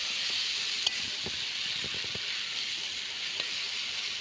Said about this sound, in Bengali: সবজিগুলো কষানো হচ্ছে